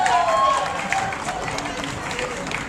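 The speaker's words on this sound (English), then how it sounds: "Round of applause for him." Crowd applause for a graduating engineer at the Sukkur IBA University 2022 convocation: dense, steady clapping from a large audience that fades slightly, with a voice announcing over it.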